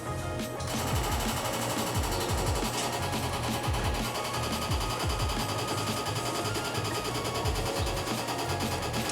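A Toyota AE86 with a bike-carbureted 4AGE engine cranks over on the starter while the fuel pump pushes fuel through a hose, making a loud, steady, rhythmic mechanical chugging that runs without a break for about nine seconds.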